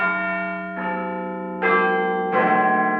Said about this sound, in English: church bells are ringing across the UK in our honour, although this one does sound a bit like Big Ben, Nick from the News at 10.